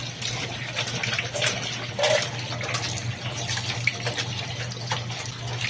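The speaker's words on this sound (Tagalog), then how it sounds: "Hugasan natin mga kaulam itong bago pakuluan, hugasan muna natin." A tap runs steadily as pork intestines are washed before boiling, with a constant low hum and occasional splashes and clinks throughout.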